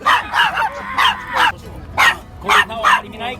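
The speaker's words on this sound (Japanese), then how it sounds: "じゃあ、ワンちゃんもいる。" A dog at an outdoor decorated-truck gathering gives a series of short, close barks and yips in uneven bursts, with people talking nearby.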